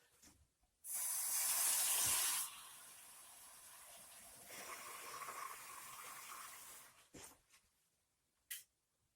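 Tap water gushes loudly into a kitchen sink for about two seconds, then runs more softly for a few more before being shut off.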